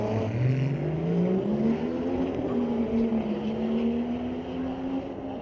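A 1994 Toyota Supra at a street-legal drag race night at Mission Raceway Park, its engine droning steadily as the pitch climbs and holds, moderately distant, with no talk over it.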